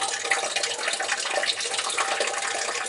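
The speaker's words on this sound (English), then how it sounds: "So you let this drain. Looks like she's draining out." Coolant draining from a work truck's radiator after the drain plug is pulled, a steady broadband trickling and splashing rush that runs unbroken and fairly close throughout, with no voices.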